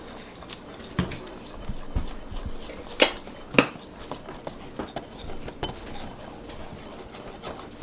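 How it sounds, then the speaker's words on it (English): A spoon stirs cake batter with a tablespoon of cinnamon in a bowl for an eggless, butterless war cake, giving soft scraping and repeated clinks against the bowl, with two sharper knocks near the middle. "And Grandpa's going to stir it now."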